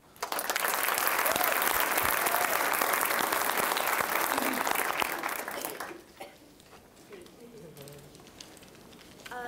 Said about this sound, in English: Please give her a round of applause as she takes the mic